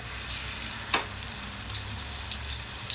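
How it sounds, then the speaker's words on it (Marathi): Ginger, garlic and coriander paste sizzles in hot oil in a pan for a chicken dish, a continuous close frying hiss with one brief clink partway through, with no voices. "हे बघा तेल टाकलं या बघा हे अद्रक लसण आणि कोथिंबीरची पेस्ट आहे हे टाकून द्यायची"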